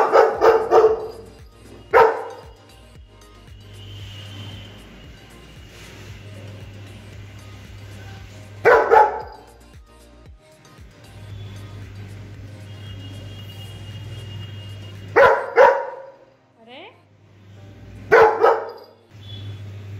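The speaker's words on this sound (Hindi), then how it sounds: "कहीं से भी आवाज आई तो भौंकना चालू।" A dog barks in several short bursts of two or three woofs, separated by quieter gaps with a low hum, fairly close and loud.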